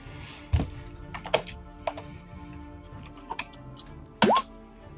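A D6 and a D10 tossed during a tabletop role-playing game, landing as a few sharp clattering knocks and taps spread over several seconds, with a louder final clack near the end.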